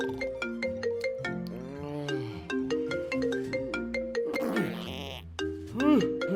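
Mobile phone ringtone playing a repeated melodic tune of bright tones with steady rhythmic notes, loud and close, ending in a short warbling flourish.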